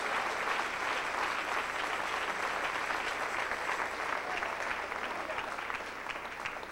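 Spanish-language church congregation giving thunderous applause during a sermon, a thick, continuous roar of many hands that eases slightly toward the end, with faint crowd voices mixed in.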